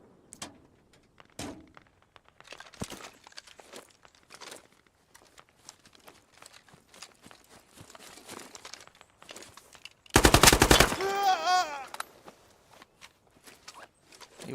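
A loud, sudden burst of automatic gunfire from another player in a video game erupts midway, lasting about a second, surrounded by quieter scattered clicks, footsteps and rustling.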